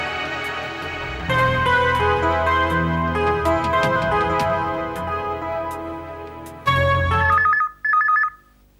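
A telephone rings with a melodic electronic tone over music, then two short bursts of trilling ring come through clearly near the end.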